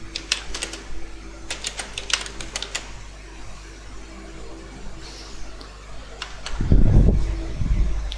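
Keys clatter on a computer keyboard as a search keyword is typed, a quick irregular run of clicks in bursts, followed near the end by a louder low rumble or handling thump.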